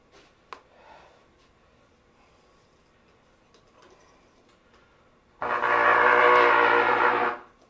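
A loud, sustained horn blast lasting about two seconds after a quiet stretch with faint scattered noises.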